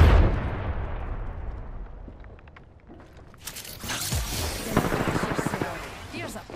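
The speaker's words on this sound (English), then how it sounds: "Grenade deployed." A grenade detonates in the Apex Legends video game: a heavy, booming blast surges in partway through, followed by a dense crackle of gunfire and rumbling explosions that stays loud to the end.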